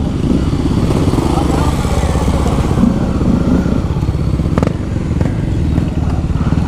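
Motorcycles, a Honda Tornado 250 and an XRE 190, idle steadily nearby on a rural trail stop, a loud continuous engine drone with faint clatter throughout while people talk.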